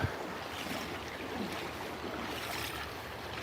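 Steady broadband water rush and swirl as a person wades through a New Jersey river while trout fishing, a continuous close splashing wash with some wind noise on the microphone and no talk.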